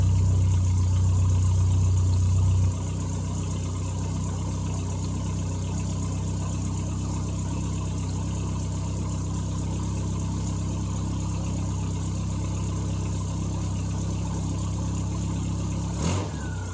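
A British classic car engine started on the choke runs close and loud, revving briefly at first, then settling into a steady idle, with a short knock near the end.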